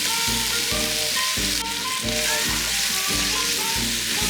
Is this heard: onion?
yes